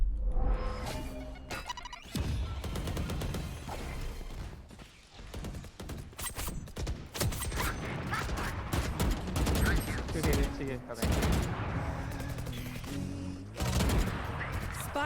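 Video game gunfire comes in rapid bursts and fusillades amid mechanical clicks and whooshes, loud and dense, while a player talks over the action.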